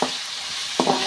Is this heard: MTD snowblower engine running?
no